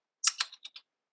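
Quick burst of typing on a computer keyboard, five or six crisp clicks in under a second, close and clear against silence.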